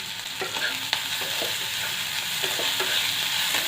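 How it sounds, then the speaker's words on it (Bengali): Bread upma with chopped tomato is stir-fried in a pan, giving a steady sizzle with repeated scraping and tossing strokes of a spatula, close and without talk. "ঢাকা না দিয়ে এটা ভাজবে একটু ক্রাঞ্চি ভাবটা থাকবে ভালো করে নেড়ে নিয়েছি"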